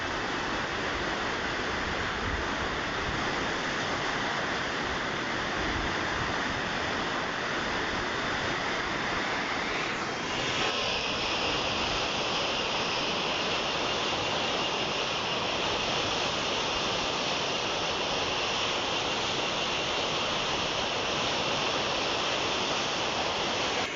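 The Aghanashini river rushes in monsoon flood at the Marigadde jackwell site, a dense, unbroken roar of churning water held close and loud throughout.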